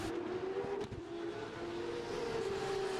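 Race car engines in an esports racing video game, a steady droning whine of several cars pulling away, fairly quiet and continuous with no voices.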